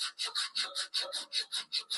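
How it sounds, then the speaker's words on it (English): Sandpaper rubs rust off a furnace blower part in about ten quick, even back-and-forth strokes, close and fairly loud with a regular rhythm and no voices. "it's much easier to sand it like crazy than it is to get stuck halfway through"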